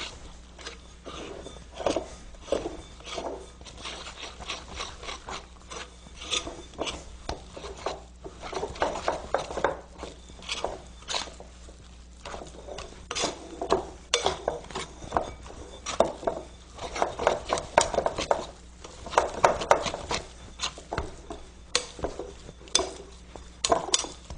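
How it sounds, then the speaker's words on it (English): Wet, shaggy spelt bread dough is mixed in a bowl, giving off a steady run of soft, sticky stirring noises broken by frequent clinks of the utensil against the bowl, close up and with no talking. "really only takes maybe 30 seconds or a minute to mix it well"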